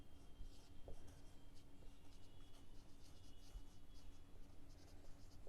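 Faint pen scratching on paper, steady short strokes of writing at close range, quiet and continuous with no talk.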